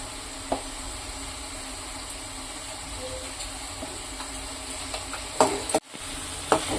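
Chopped onions frying in a pan for a fish curry give a steady hiss and sizzle, broken by occasional scraping clicks from stirring, with no talking.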